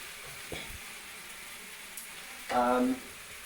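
Pasta and mushrooms are tossed together in a frying pan, with a soft steady sizzle, a light scrape early on, and a brief louder stirring clatter with a ringing metallic edge.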